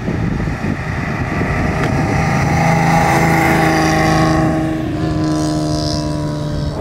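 A 1939 BMW 327/28 Sport-Kabriolett with its six-cylinder engine drives steadily, a loud close engine drone with shifting tonal hum as it pulls forward and changes pitch, no voices.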